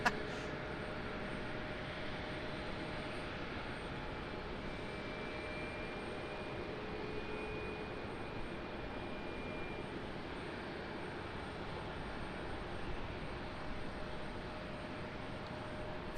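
A plane arriving at Raleigh Durham airport makes a steady, distant jet roar that holds evenly throughout, a broad rushing drone with a faint whine.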